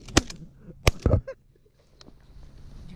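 Sharp cracks of gunfire ring out while city pigeons are being shot, with a couple of loud close reports followed by quieter clatter and faint outdoor background.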